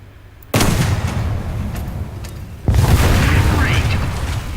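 Two heavy tank cannon shots in War Thunder fire a couple of seconds apart, each a loud sudden boom followed by a long rumbling tail, with game voice lines and battle noise mixed in.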